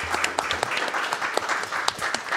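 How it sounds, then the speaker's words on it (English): An audience at a speedrun marathon event claps, a fairly quiet, scattered round of applause with distinct individual claps sounding through a lively room. "That deserves a second round of applause, I think."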